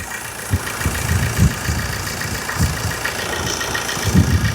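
A car engine idles steadily nearby, a low rumble with soft rhythmic knocking throughout and no voices.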